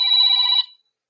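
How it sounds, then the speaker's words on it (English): A single short burst of a telephone ringing for an incoming call, trilling electronically and close by, then cutting off into silence. "we got a phone call coming in"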